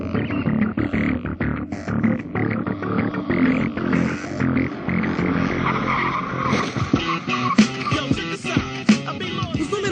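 A car approaches at 80 km/h and brakes hard in a braking test, engine roar building into squealing, skidding tires, loud and close.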